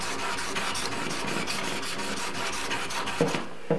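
A steel cabinet scraper is pushed in quick, regular back-and-forth strokes across a sharpening stone, a close, gritty rasp repeating about five times a second before two sharper knocks at the end.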